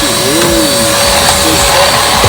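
Xiaomi Mijia Deerma wireless vacuum cleaner running at suction level 2, with a loud, steady motor whine and airflow roar close by and a faint rising tonal sweep.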